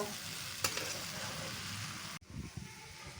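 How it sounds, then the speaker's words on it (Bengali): Raw jackfruit, potato and prawns are stir-fried with spices in a pan, giving a close, steady sizzle with a clatter of stirring, followed by a brief lull and softer scraping. "ভালো করে কষিয়ে নেব"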